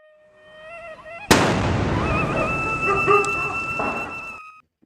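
Diwali firecrackers set off in a hometown celebration: after a faint whistling tone, a sudden loud, close burst gives way to several seconds of dense crackling and popping that cuts off abruptly.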